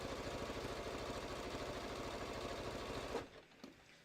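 Sewing machine running a triple zigzag stitch on bucket hat fabric, a rapid rhythmic whir for about three seconds that stops abruptly, followed by a soft click in near silence.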